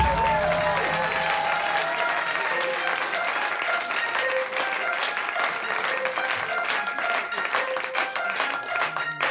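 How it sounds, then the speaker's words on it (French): A comedy show audience bursts into dense, sustained applause and cheering for a comedian, loud and continuous throughout with scattered shouts in the crowd. "Faites un maximum de bruit pour Nino Arial"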